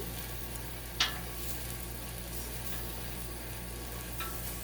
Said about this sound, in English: I think we're getting a good sear.